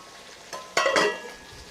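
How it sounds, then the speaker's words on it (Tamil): Fish fries in a pan during rainy-season cooking, giving a short sizzle with a couple of brief, louder spits and crackles over soft background hiss. "மீன் பொரிக்கிறேன்"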